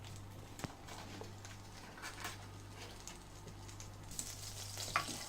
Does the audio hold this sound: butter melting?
yes